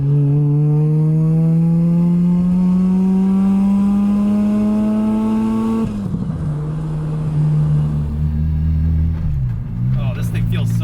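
A Mazda FC RX7 fitted with a racecar transmission pulls hard while driving, its loud engine note climbing steadily in pitch, dropping sharply at a gear change, then rising again from inside the car.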